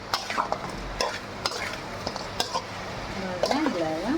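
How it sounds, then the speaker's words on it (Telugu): Spiced chicken fries and crackles in a pan as a spoon stirs and scrapes it, with sharp metallic clinks of utensil on pan over a steady close sizzle. "ఇవి బాగా వేయించుకోవాలి. మగ్గనివ్వాలి వీటిని."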